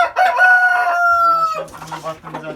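A rooster of an Indian breed crows loudly and close, one long drawn-out call that falls off and is followed by a few lower clucking notes, with no talk.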